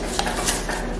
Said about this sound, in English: it's just the ice maker in the fridge